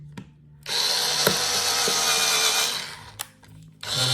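Power drill driving into a drawer track during installation, a loud high whirring burst lasting a couple of seconds, a short pause with clicks, then the motor starting again.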